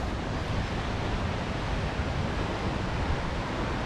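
Jogini waterfall near Manali pours in a steady, broadband roar of rushing water, continuous and even with no pauses, heard from nearby on the trek.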